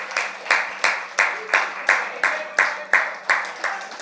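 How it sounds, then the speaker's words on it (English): An audience at a youth church gathering claps in a steady, evenly paced rhythm, each clap sharp and in unison, repeating about three times a second for the whole stretch. "Let's stand and really give Ashley a wonderful round of applause."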